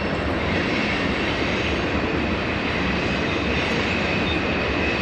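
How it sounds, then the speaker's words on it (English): Steady rumble and rattling of coal-loaded freight cars passing on the tracks in New River Gorge National Park, loud and unbroken, with faint metallic squeal. "Long train."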